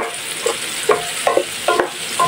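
Fresh mushrooms sautéing in a pan, a steady close sizzle broken by several soft scraping stirs at roughly regular intervals.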